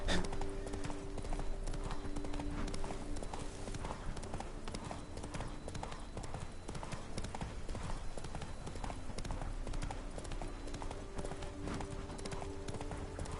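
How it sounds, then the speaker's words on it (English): Steady clip-clop of horse hooves in the video game The Witcher 3, at a brisk, even rhythm, continuous throughout, with a faint low background hum. "why exactly did she decide to call his horse Roach"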